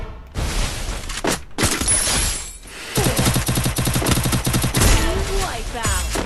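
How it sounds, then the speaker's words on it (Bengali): Loud gunfire in the mobile game Free Fire, a sniper rifle among the weapons, rings out in repeated sharp bursts and rattling volleys across the whole stretch, with brief gaps and a blast-like impact. "দেখতেই তো পারলেন এই কুরুল গেমিং কতটা ডেঞ্জারাস লেভেলের গেম প্লে করে থাকে, তাও আবার স্নাইপার দিয়ে।"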